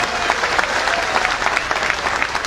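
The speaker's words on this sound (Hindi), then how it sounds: "उनके नाम की जरा एक ताली दें।" An audience at a Hindi political gathering on farmers' and workers' issues bursts into dense, sustained clapping that stays loud and steady throughout.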